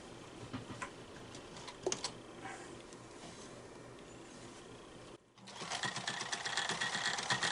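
Sewing machine stitching a ruffle onto a doll bed canopy, running in steady bursts with rapid ticking, pausing briefly, then resuming louder and continuous.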